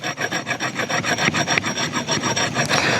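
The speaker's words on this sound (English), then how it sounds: "let's just see if it'll scrape some fat wood" The spine of an Ontario Bowie knife scrapes repeatedly along a piece of fatwood, making steady, rhythmic rasping strokes close up with no voices.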